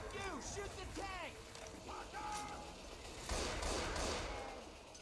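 Gunfire in the Left 4 Dead 2 video game aimed at the Tank, with quick bursts of shots rising into dense, sustained firing in the second half under excited voices talking.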